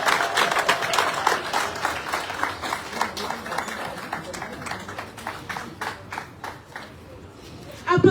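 Audience clapping at a first-anniversary foundation ceremony honouring a district hospital director, steady scattered claps in a loose rhythm that thin out toward the end, with a voice faintly present.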